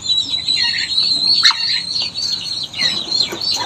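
A newly hatched duckling in a backyard peeps in rapid, high, thin chirps, close and fairly loud, repeating almost continuously over faint background noise.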